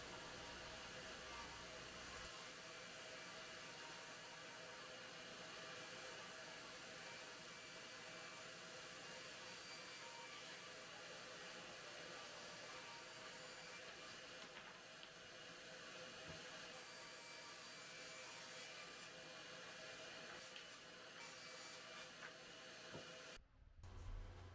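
A table saw rips fence pickets to 4 1/4 inches wide, giving a steady, loud, continuous whine and hiss for the whole stretch that cuts off abruptly near the end.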